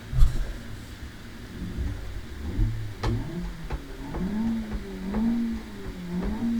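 A BeamNG.drive ETK car engine with a 7,000 RPM rev limiter revs in repeated rising bursts, clear and close, with no talking.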